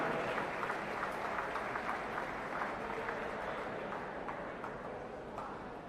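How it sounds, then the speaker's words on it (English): A crowd at the finals session of the 2024 New Zealand Swimming Championships applauds the 100-metre freestyle champion with a steady, fairly distant patter of clapping that lasts the whole stretch. "Round of applause for Letitia Lee Transom, 100-metre freestyle champion."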